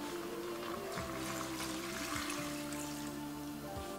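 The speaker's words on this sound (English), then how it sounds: "So I'm just going to add water." Water is poured into a Breville fast cooker holding lamb chops, garbanzo beans and sauce, a steady, low gush and splash running continuously, quiet and close, with a few faint clunks.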